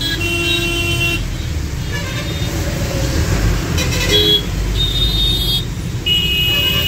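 Busy road traffic rumbles steadily around a vegetable truck on a long-haul run, with car horns tooting again and again over the constant engine drone.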